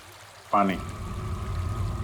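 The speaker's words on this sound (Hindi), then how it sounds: "पानी की आवाज लगती है।" A steady trickle of flowing water runs throughout, with a brief tonal burst near the start that may be a voice.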